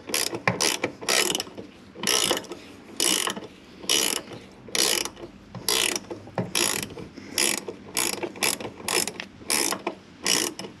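A hand ratchet loosens 12 mm bolts on the sliding door of a 2008 Honda Odyssey, its clicking coming in repeated close bursts with short pauses between strokes.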